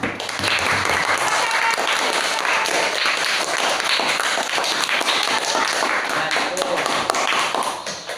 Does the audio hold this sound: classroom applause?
yes